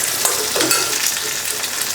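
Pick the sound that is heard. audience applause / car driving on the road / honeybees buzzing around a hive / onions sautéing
onions sautéing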